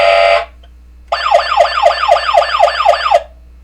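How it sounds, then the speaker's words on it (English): A childhood toy ambulance sounds its siren: a short tone burst, a pause, then about seven rapid rising-falling electronic wails in a steady rhythm, close and fairly loud, with no talking. "This is a toy ambulance that I've had since I was a little kid. It's got light and sound features."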